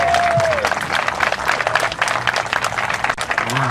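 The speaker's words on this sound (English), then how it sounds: "So please, a big round of applause for Dr." Crowd applause fills a campaign kick-off event, steady dense clapping from a sizable audience throughout, with a faint voice briefly audible underneath.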